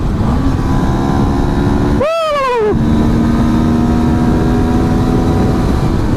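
A CFMOTO 400NK motorcycle engine runs on a dyno, holding a steady high drone with one quick rising and falling rev sweep partway through.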